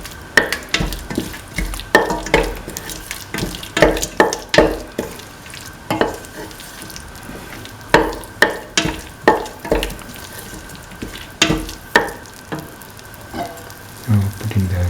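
A coconut milk stew mixture being stirred in a pan, with a steady run of close scraping and clinking strokes over a soft sizzle, in uneven bursts and quiet gaps.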